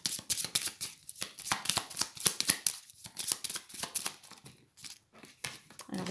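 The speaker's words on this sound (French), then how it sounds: "je vais tirer 3 cartes." Oracle cards shuffled and drawn close up, giving rapid papery riffles and slaps in dense bursts with brief gaps, fairly loud, then a softer slide near the end.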